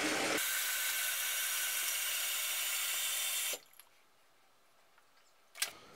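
Water rushing from a dual flush toilet tank as it drains, a steady loud hiss lasting a few seconds before cutting off abruptly, followed by quiet with a faint knock.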